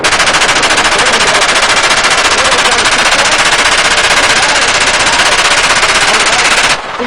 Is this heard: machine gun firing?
yes